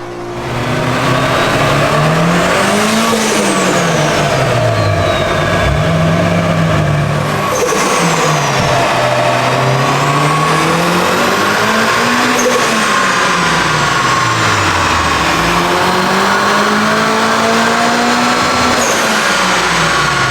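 A turbocharged Honda Civic engine screams on a dyno, running on E85, loud and close, sweeping up through repeated rising pulls and dropping back between them with no break in the sound.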